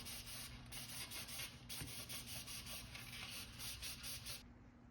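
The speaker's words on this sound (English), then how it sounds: "the next step is to clean the rim to ensure proper adhesion of the rim tape. In this case, I'm using isopropyl alcohol." Bicycle rim being wiped clean with isopropyl alcohol, a steady close rubbing and scrubbing with rhythmic pulses that stops abruptly near the end, no voices.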